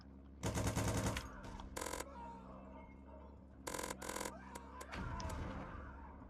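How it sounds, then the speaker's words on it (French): Calliope weapon system firing in the video game Revolt, several short loud rapid-fire bursts of shots separated by quieter gaps with game engine and vehicle noise underneath. "c'était la gâchette ici pour tirer, je me souvenais plus. Pour tirer avec le système Calliope"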